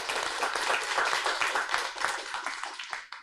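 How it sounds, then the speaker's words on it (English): Warm audience clapping for speakers at the close of a foreign policy panel discussion, a dense round of individual hand claps that stays strong and tapers slightly at the end. "please give a warm round of applause for all of our speakers here"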